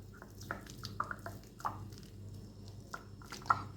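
Three boiled potatoes being squashed and mashed, with several soft, wet squishing presses spaced irregularly over a low steady background hum.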